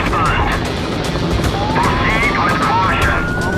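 A police helicopter flying overhead makes a loud, constant roaring drone throughout, with voices talking over it.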